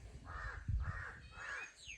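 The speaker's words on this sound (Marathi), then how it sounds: "कावळ्या डॉन करतोय काव काव काव काव असं आहे" A crow caws three times in an even rhythm, fairly close and clear over quiet outdoor background.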